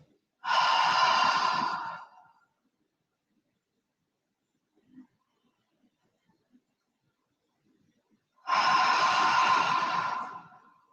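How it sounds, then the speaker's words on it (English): Two long, audible breaths, each a breathy rush of air lasting about two seconds, separated by a quiet pause with faint small sounds; nose-in, mouth-out breathing during a yoga pranayama session. "Breathing in through the nose, breathing out through the mouth."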